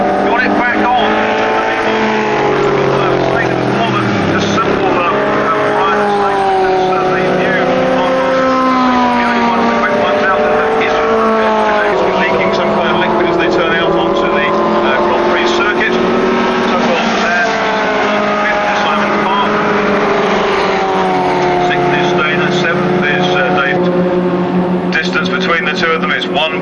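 Classic sports cars race at Brands Hatch in 1997, their engines roaring and shifting pitch continuously as they pass. A commentator talks over the noise throughout.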